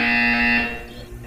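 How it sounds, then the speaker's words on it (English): A loud, steady electronic buzzer sounds in the Portal 2 video game, holding a flat tone for about half a second before cutting off and leaving faint room noise. "You will hear a buzzer. When you hear the buzzer, look down at the floor."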